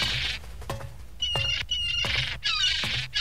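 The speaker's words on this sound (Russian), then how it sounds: "Одна птица ебанутая осталась только и все." Harsh repeated bird squawks in the game No one lives under the lighthouse, about five loud raspy calls in uneven succession, each cut with a sharp thump, no talking.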